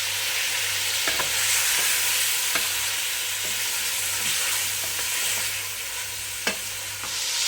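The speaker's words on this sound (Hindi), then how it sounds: "मैं गोश्त को भूनूंगी, और जब तक इसका कलर चेंज नहीं होता तब तक मैं इसको भूनती रहूँगी।" Goat or lamb meat sizzles in hot oil with garlic-ginger paste and whole garam masala, a steady close frying hiss broken by occasional stirring scrapes and clicks.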